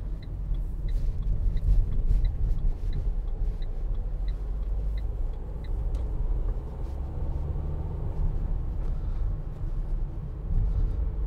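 A 2019 Renault Trafic 1.6 dCi van driving on the road, heard from inside as a steady, loud low rumble of engine and road noise with faint ticking, continuous throughout, no talk.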